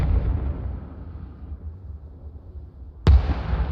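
Mortar shells explode in the Arma Reforger video game: a decaying low rumble from one blast fades out, then a single loud, sharp, near detonation hits near the end and rolls off into its tail.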